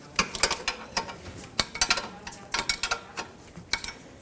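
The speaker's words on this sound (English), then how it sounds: "With a 13mm wrench, it's basically the only thing that's going to get in here, you're going to want to remove the 2 caliper bracket to knuckle bolts" A 13mm ratchet wrench works on the caliper bracket-to-knuckle bolts of a 2012-2019 Fiat 500 rear wheel hub, giving close, rapid bursts of ratcheting clicks with short pauses and no talking.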